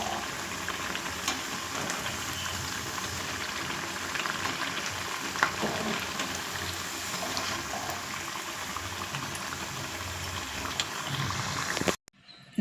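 Evening snacks deep-frying in hot oil give a steady, close crackling sizzle with scattered pops that runs unbroken for nearly the whole stretch, then cuts off abruptly near the end.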